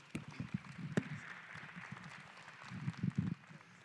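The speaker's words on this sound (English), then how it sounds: "Let's give them a round of applause." An audience at a membership meeting applauds, with a brief, fairly faint patter of clapping that swells near the start, then thins and rises again near the end.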